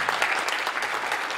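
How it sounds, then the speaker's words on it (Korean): A church seminar audience claps in thanks to a pastor, a brief burst of dense, even applause at moderate volume with no one speaking. "감사의 박수를 드리겠습니다."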